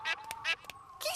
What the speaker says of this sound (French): Et ces canetons viennent de sortir de leur coquille.